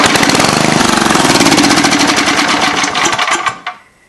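A used portable generator is started and runs with a loud, rapid, rattling engine chug close by, holding steady for several seconds before cutting out and dying away.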